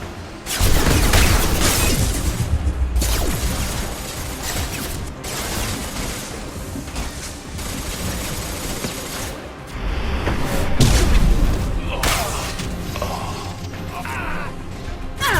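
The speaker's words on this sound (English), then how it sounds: "Firing an impact shot." Impact shot weapon fire in the Mass Effect 2 video game, with loud, dense bursts of mechanical blasts and crashes stacked over continuous game action.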